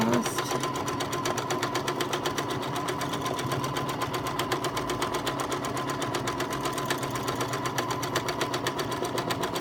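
A sewing machine runs steadily while quilting a small meandering pattern, its fast needle rhythm even and continuous throughout, close up and fairly loud with no pauses.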